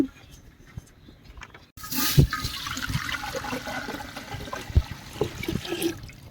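Water is poured into a cooking pot to parboil rice for fried rice, a rushing, splashing flow starting abruptly after a quiet moment and continuing close by with small clatters.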